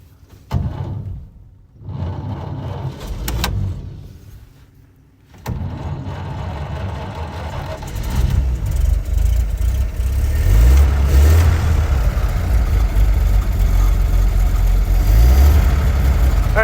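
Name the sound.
1929 Buick car engine starting and idling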